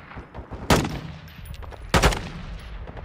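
Gunfire in the Modern Warfare II campaign, two sharp loud shot bursts roughly a second apart over a low rumbling game background, with no talking.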